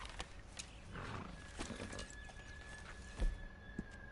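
A horse in the video game Red Dead Redemption 2 snorts and whinnies among clip-clopping hooves, close and fairly loud, set against ambient wilderness sound without talk.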